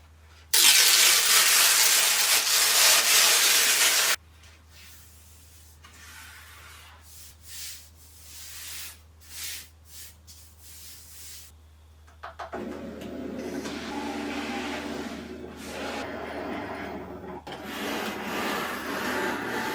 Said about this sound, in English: I used the Cricut fall leather in brown color, placing it on the standard grip mat to be cut